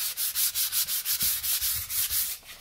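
Sandpaper rubs over wood for a floating shelf in quick, even back-and-forth strokes, about a dozen passes close up with no talking.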